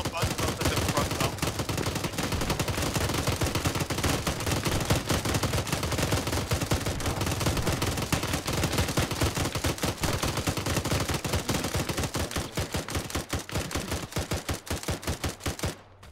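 Arma 3 military combat gunfire: dense, sustained rapid bursts and volleys crackle almost continuously for about fifteen seconds before cutting off, loud and unbroken, with no talking.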